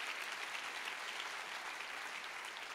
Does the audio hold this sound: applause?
yes